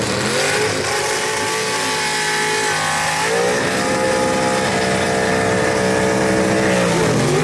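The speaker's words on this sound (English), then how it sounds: "Hard race engine underneath the hood for Blackwell out of Campobella" Thunderbird gasser drag car with a hard race engine, built in Campobella, South Carolina, roars loudly at a drag strip, revving and accelerating hard with rising engine pitch and a gear-change dip before climbing again.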